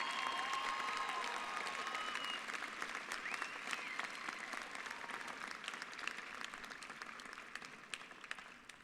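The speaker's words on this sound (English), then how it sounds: "Let's give our top 10 a big round of applause for their hard work and dedication." Sustained applause from a graduation audience at a 2017 ceremony, a dense crowd of clapping hands that stays steady and then slowly thins out, moderately distant.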